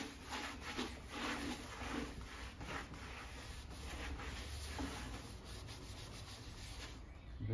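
Chalk paint being buffed off a painted surface with a garden leaf impression, a steady close rubbing and sanding scrape with repeated strokes throughout.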